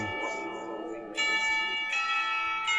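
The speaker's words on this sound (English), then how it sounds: "Then silence and bells and people chatting." Bells ring out in a scene from the Katawa Shoujo visual novel game, sustained bright tones with fresh strikes about every second, layered over a soft background hum.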